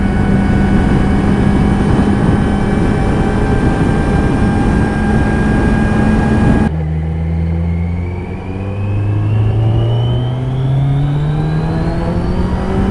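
A 2020 Kawasaki Z900 motorcycle engine held at a steady high-revving whine, then easing off and climbing again through rising pitch as it accelerates, loud and close.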